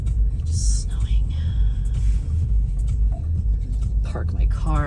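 A parked car idles in falling snow at night in the mountains, giving a low constant engine rumble throughout while a person speaks quietly over it.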